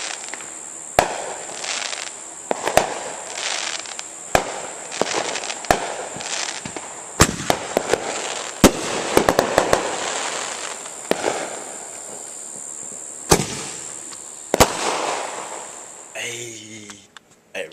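Neighborhood fireworks pop outdoors on the 4th of July. Irregular sharp cracks and bursts, some clustered in quick volleys, ring out over a constant hiss of background noise and faint voices.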